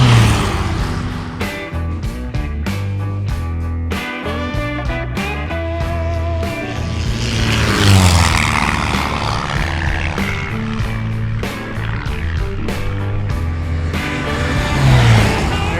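A Comanche light propeller airplane passing at a fly-in airfield, its engine drone rising and swelling twice over a loud, continuous background with no talk.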